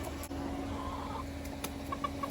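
Soft, scattered clucks from chickens running for feed over a steady outdoor hum, faint and somewhat distant.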